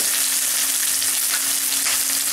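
Small onions fry for a liver fry, giving a loud, steady, close sizzle with no pauses and no voices.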